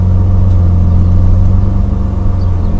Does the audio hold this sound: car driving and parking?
yes